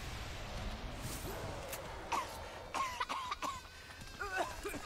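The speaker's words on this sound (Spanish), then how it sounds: "cuando estás infectado, ya está, menos mal. Te pones a toser." An infected character in the video game Remnant: From the Ashes coughs in several short, rough bursts over a quiet, low game background.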